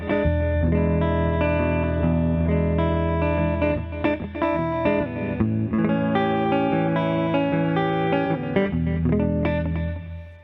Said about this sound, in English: the front pickup is a Seymour Duncan P-rail. Right now, I've got it in humbucking position.